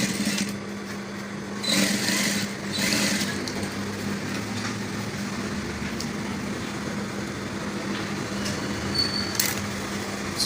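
Sewing machine stitching a folded-in waistcoat lining: a steady mechanical hum runs throughout at even loudness, with a few brief higher whirring bursts near the start and short clicks scattered later, no talk.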